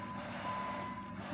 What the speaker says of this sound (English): there's an army truck moving in on the side there